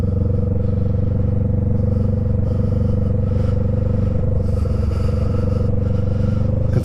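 A motorcycle engine with heated gloves fitted idles and cruises slowly around a gas station, a steady low rumble with faint clatter, close and continuous throughout.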